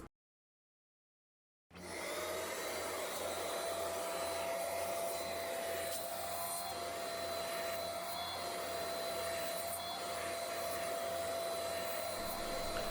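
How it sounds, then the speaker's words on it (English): A vacuum cleaner starts after a brief silence and runs steadily and loudly while cleaning out the developing unit of a Konica Minolta copier, with a constant whine and a faint shifting rustle as the nozzle moves. "grab a vacuum and we're going to vacuum out the developing unit"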